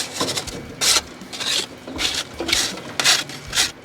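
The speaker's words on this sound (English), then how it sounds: "We're just going to scrape all the loose stuff down into that tray." Rhythmic scraping strokes of a grill scraper pushing loose debris and grease down inside a Weber Genesis gas grill, about six rough rasping passes close up, with no talk.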